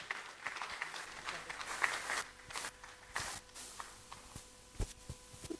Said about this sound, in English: Please, let's give her a hand of applause.